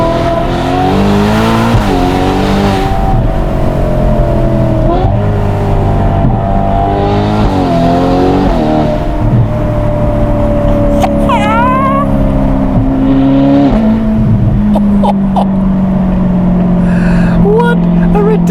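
Novitec-tuned Ferrari Portofino M with 688 hp and an aftermarket exhaust, roaring loud and close through repeated revs and gear changes, with a long sustained pull and a sharp burst of crackles near the end.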